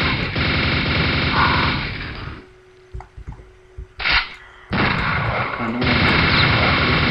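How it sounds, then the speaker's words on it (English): Gunfire from army-style weapons in the video game Alba, loud dense bursts of shots, then a short quiet gap with a few sharp cracks and a whoosh, then heavy firing again. "I can hear. Oh, right, they're like guns."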